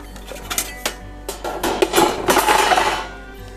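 Screws being removed while a JVC MX-518T stereo system is taken apart: sharp metallic clicks and clinks, then a denser rattling clatter of hardware close by, with no talking.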